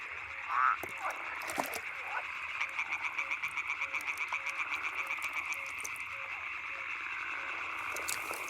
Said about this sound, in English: Yellow-bellied toads or edible frogs, all of them try to attract a partner with their croaking.